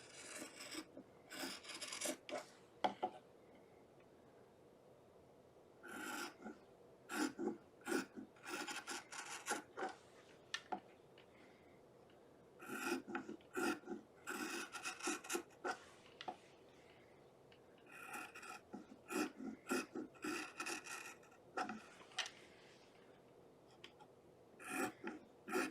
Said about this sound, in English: I'm just literally cutting strips.